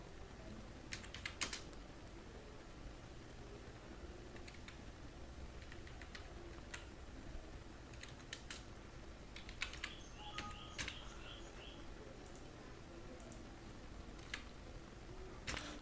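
Keys tap on a computer keyboard while someone fills in an online form. The clicks come as faint, sparse bursts over a quiet background.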